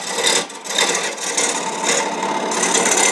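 A lathe tool sizes the tenon on a turned wooden wig stand, giving a close, dry scraping rasp that comes in uneven bursts with short gaps between them.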